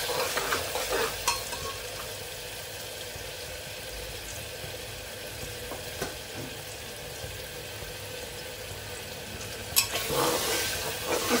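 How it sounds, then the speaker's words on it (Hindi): Onions frying in a pan until golden brown for chole, a steady close sizzle with occasional scrapes and taps of a spoon stirring, with no talking. "गोल्डन ब्राउन होने तक मैं भून लूंगी। देखिए प्याज अच्छा से कलर चेंज हो गया है।"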